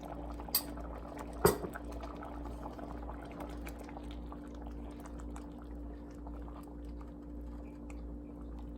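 A pot of lentils bubbles quietly on a low boil, soft steady simmering with a couple of brief utensil clinks near the start.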